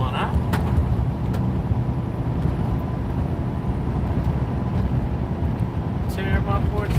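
Truck driving on a bumpy highway, a steady low road rumble with occasional thumps, heard from inside the cab while someone talks over it.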